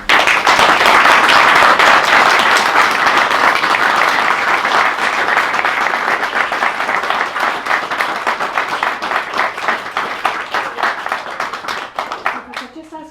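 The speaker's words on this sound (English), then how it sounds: "So can we congratulate them with a nice round of applause?" Wedding guests at a vow renewal applauding the couple, a loud, dense round of clapping close by that gradually thins and fades over about thirteen seconds, ending in a few scattered claps.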